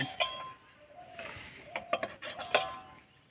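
Metal utensils clink faintly against a pan and plate as langcha sweets made with sweet potato are lifted out, giving a few scattered taps and scrapes in a quiet kitchen.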